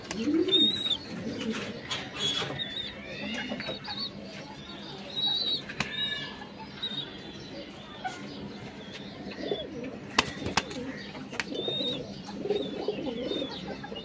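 Pigeons coo inside a loft, soft repeated calls mixed with wing flaps, rustling and a few chirps, all fairly quiet against the room's background.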